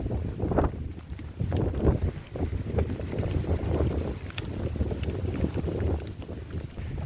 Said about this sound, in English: It's starting to rain and it's got super windy.